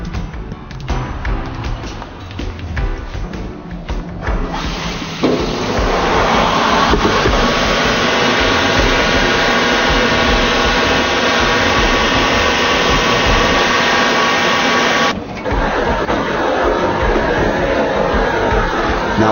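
A coarse grinding machine works a crystal baptismal font, with rough, uneven whirring at first, then a loud, steady abrasive roar for about ten seconds before dropping back to a lighter hum.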